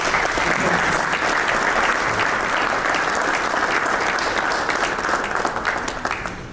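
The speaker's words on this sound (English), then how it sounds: "Can we please give them a warm applause?" Audience at a charity foundation event applauding, with dense, sustained clapping from a sizable crowd that holds steady and then begins to thin out toward the end.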